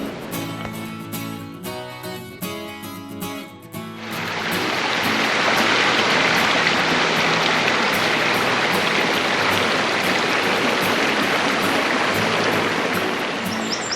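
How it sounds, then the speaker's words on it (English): A creek runs right beside a trail, and its steady rushing water roar rises sharply after a quieter opening with tonal sounds, then stays loud and close. "The creek is running right beside us."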